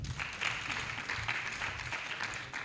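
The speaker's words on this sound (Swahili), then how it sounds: "Kwanza makofi kwake." An audience at a health forum claps for a named attendee, a soft, moderately dense patter of applause heard from some distance and lasting the whole moment, with no voices over it.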